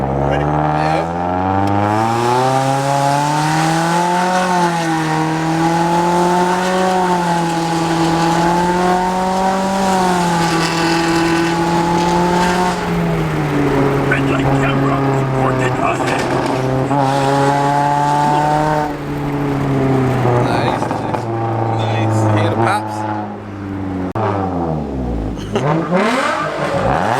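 A Nissan Altima accelerates hard from 0 to 60, its loud engine climbing in pitch through several gear shifts, dropping at each change and rising again. The car is close by and the noise is continuous until the engine backs off at the end.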